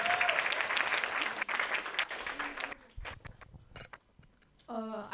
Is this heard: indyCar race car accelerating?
no